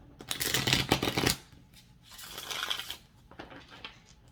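Tarot cards are shuffled and cut in close, crisp riffling rustles in three bursts, the first loudest, the later ones softer, with no talking.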